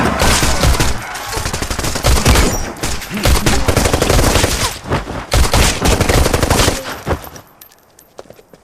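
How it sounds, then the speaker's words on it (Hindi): Dense, loud bursts of rapid gunfire and machine-gun fire from an action scene in the film Salaar, almost continuous for seven seconds before abruptly thinning to a few faint trailing shots. "यहाँ पर खूब ज्यादा गन चलने लग जाती है"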